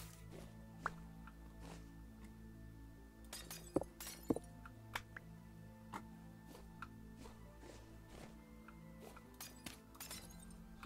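Glass clinks and chinks as it is picked up in the survival game Vintage Story: a string of sharp, bright ticks scattered over a low steady ambient hum, with two louder crisp clinks near the middle.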